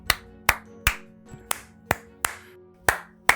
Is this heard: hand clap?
yes